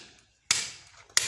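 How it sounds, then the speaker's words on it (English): A chisel is struck into a wall to cut a channel for a PVC waste pipe, giving two sharp close hammer blows, each followed by a short gritty rattle of falling debris, with no talking. "So he's now on the process of chiseling it."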